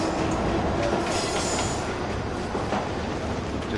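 A subway train rumbles and clatters in a video game, a steady dense roar of wheels on rails with faint squealing and clacking, close and continuous, with no talk over it.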